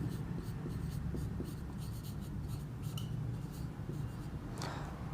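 A pen or marker scratches across a board during a maths lesson on polynomials, close up with short, repeated strokes.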